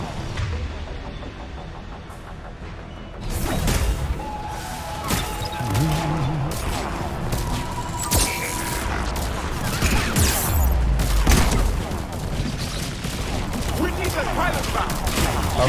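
Gunfire aimed at a Harvester in Mass Effect 3, heavy repeated shots and booming impacts over a rumbling battle din, sustained for a long stretch with people talking underneath.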